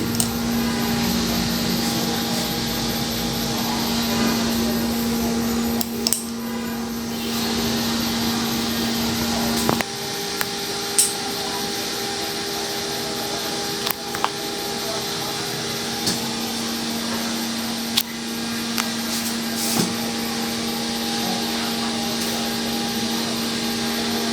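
The tray-turning motor of an 88-egg, steel-bodied, fully automatic egg incubator runs as a steady mechanical hum, broken by a few sharp clicks. A voice is faintly present at times.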